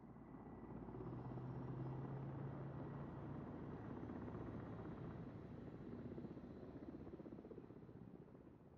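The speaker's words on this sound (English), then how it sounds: "helicopter." A video game helicopter drones steadily throughout, its rotor thrumming in a continuous, loud, rhythmic chop that swells slightly and then fades a little toward the end.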